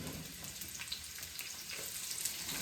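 Onions sauté in a couple tablespoons of oil in a pan, giving a faint, even hiss and soft crackle that continues without a break.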